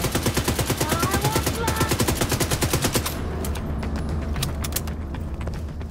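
Rapid automatic fire from an Uzi submachine gun in the video game The Division 2: loud, tightly spaced bursts for about three seconds, then thinning into scattered shots and game ambience.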